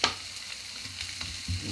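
Cubed corned beef sizzles and crackles in a hot pan, a steady frying hiss with scattered pops and a stirring scrape near the end.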